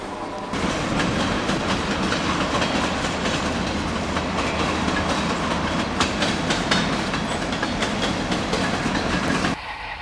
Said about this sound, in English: In the background you hear the real train going by on the Canadian National tracks.